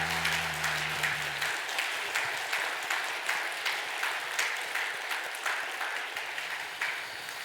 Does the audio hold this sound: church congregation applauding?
yes